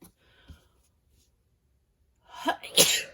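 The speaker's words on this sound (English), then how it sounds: "I'm going to sneeze." A single sharp sneeze bursts out near the end after a quiet stretch, preceded by a faint intake of breath.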